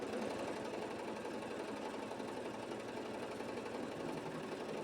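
A sewing machine runs steadily, stitching a French seam on fine, fray-prone fabric for a gypsy-style blouse with a bow, using a machine foot set to the right side; an even, continuous whir throughout with no talk.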